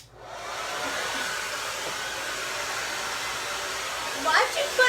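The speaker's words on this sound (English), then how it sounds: "what is wrong with my blow dryer?" A malfunctioning blow dryer whirs in a steady, loud, airy drone from start-up to the end, with a voice briefly heard near the finish.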